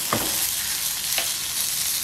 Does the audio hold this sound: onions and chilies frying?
yes